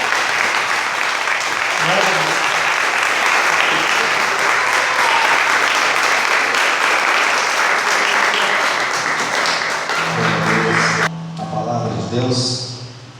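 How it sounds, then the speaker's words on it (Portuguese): A congregation at a home church service applauds steadily and loudly for about eleven seconds, then the clapping breaks off and a voice begins speaking over a low hum. "Vamos aplaudir aqui, tá?"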